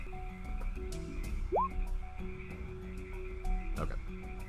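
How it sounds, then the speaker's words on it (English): Frogs croak steadily in a dense chorus, with layered calls and one rising whistle-like note standing out midway, alongside occasional sharper clicks. "So all of these frogs kind of crowd around all of you."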